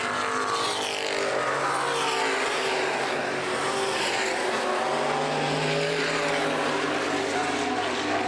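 Open-wheel modified race cars at Baer Field Speedway in 2011 roar down the backstretch side by side, a loud, continuous engine howl with shifting pitch and faint tire scrub, with no talk.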